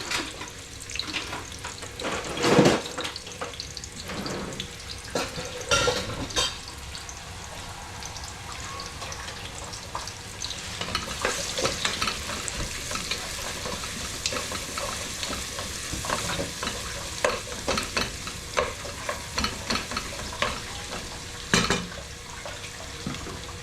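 Onions frying in a pan with repeated stirring, a steady sizzle broken by scraping utensil strokes throughout, with occasional running water from a tap in a home kitchen.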